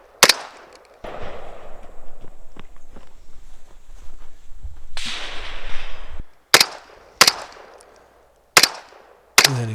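Rifle shots ring out on steel targets during a stage of a practical shooting competition, several sharp loud cracks spaced apart near the end, after a stretch of footsteps and movement noise.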